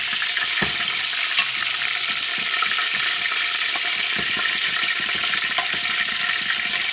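Hot grease sizzles in a pan after chicken has been browned, a steady crackling hiss with scattered pops and occasional light clatter, fairly close and with no talking.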